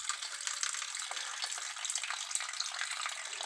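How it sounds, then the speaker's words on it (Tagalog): Continuous splashing rush of water being poured into a cooking pot, steady and fairly close with no talking. "Dagdagan pa natin ang tubig"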